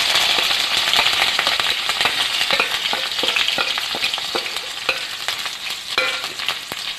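Ginger, green chili and garlic fry in a hot pan with a loud, steady sizzle, and sharp crackles and pops keep breaking through it. There is no talking.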